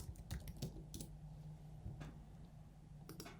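Typing on a computer keyboard, with scattered key clicks in loose bursts over a steady low background hum; the strokes are moderately faint and come alone, with no talking.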